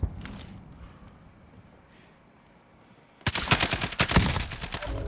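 Gunfire in Call of Duty Warzone, a sharp crack at the start, then quiet before a loud, dense burst of rapid automatic shots fills the last two seconds.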